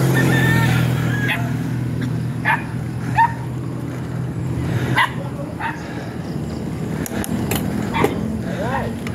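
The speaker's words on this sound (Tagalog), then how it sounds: "Aso, aso." A dog barks a few times at a moderate distance over a steady engine hum and water noise on a climb from Carmona to Silang, with a person talking nearby.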